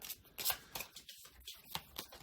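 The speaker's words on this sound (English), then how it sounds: "if you want to shuffle the night raids cards" A deck of board game cards is shuffled at a table in a series of quiet, quick riffling bursts and soft slaps over a couple of seconds, close by and faint.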